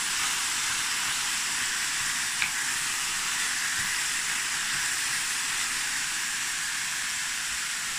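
Ostrich mince sizzles steadily in a pot as a bredie begins, a constant loud hiss of frying with no talking and only a faint single tap partway through.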